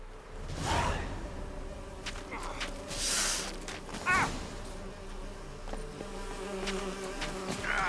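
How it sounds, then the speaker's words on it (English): Bees buzz close around the player while chasing in The Witcher 3: Hearts of Stone, a steady insect drone with several louder whooshing swells and faint hisses throughout. "Why am I being chased by bees?"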